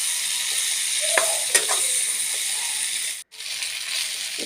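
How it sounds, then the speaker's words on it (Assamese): Pieces of pork fry in oil for a pork curry, giving a steady close sizzle broken by a few scraping stirs of a utensil. A short gap interrupts the sound before the sizzle continues. "তেল লৰাই দিব, অলপ সময় লৰাই ঢাকনখন মাৰি থৈ দিব।"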